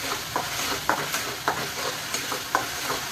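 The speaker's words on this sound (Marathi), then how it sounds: "म्हणजे भाजीला टॅमॅटो प्युरी असं चांगलं परतून घ्यायचं." Tomato purée and onion sauté in oil, a soft steady sizzle punctuated by regular spoon-stirring knocks about every half second.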